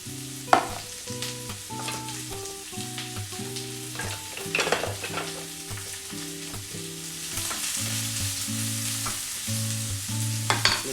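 Onions frying in a pan sizzle steadily, with occasional stirring scrapes, under a melodic music track that plays throughout.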